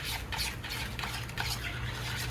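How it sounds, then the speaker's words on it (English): A spoon stirs a thick homemade sauce with ginger and garlic powder in a pot, giving a steady scraping, swishing rhythm close up with no talking. "Just gonna mix that up."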